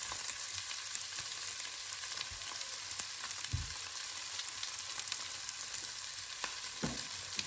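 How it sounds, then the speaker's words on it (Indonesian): Beef roulades (Rinderrouladen) fry in a nonstick pan, making a steady, moderately faint sizzle and crackle with a few soft knocks, and no voices. "Yap, digoreng gitu."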